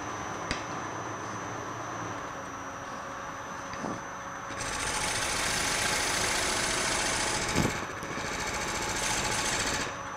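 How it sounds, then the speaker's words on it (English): A wood lathe spins a walnut bowl on a screw chuck, turned with a gouge, as a steady machine whir that grows louder and brighter partway through as the speed rises, with a few brief knocks and no talking. "Turn the speed on the lathe up even a little bit more."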